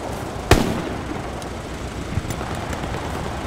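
A single sharp blast from a bombing run in the WWII shooter Hell Let Loose on Omaha Beach, a loud broadband crack at first then a fainter thud later, over steady battlefield rumble.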